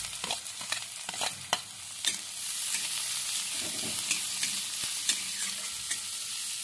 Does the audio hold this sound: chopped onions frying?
yes